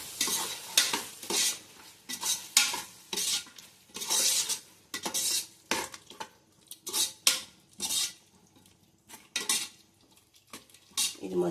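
Curd being stirred into jackfruit biryani in a pot, a spoon scraping and clattering against the metal in repeated bursts of stirring over a faint sizzle, close and fairly loud, with no talk.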